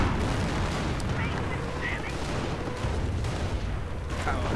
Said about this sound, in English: Mortar rounds landing on the German positions.